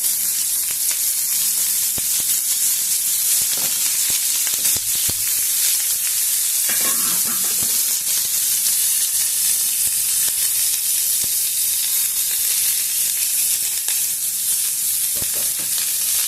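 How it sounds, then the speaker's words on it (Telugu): Green chillies and onion pieces fry in a pan with a loud, continuous sizzle, while occasional spoon scrapes and taps cut through the hiss. "కొద్దిగా వేయించుకున్నాము ఉల్లి ముక్కల్ని"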